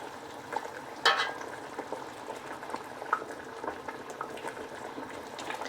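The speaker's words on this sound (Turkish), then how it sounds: "Kısık ateşte e, yaklaşık bir 2-3 saat kadar kaynatacağız" Pumpkin pieces simmering in syrup over low heat for a Hatay-style dessert, a soft steady bubbling with occasional small pops and clicks, close and fairly quiet.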